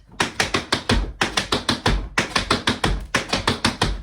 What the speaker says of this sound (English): So tap spring, shuffle, spring, tap spring, shuffle, spring, tap spring, shuffle, spring.